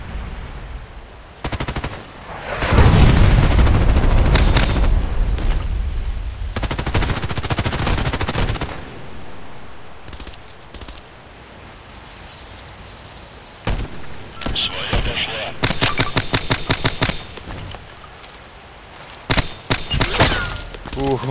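Heavy gunfire in the Contract Wars shooter game, with loud bursts of rapid shots early on and sharp clusters of rattling fire later, separated by quieter stretches of game ambience.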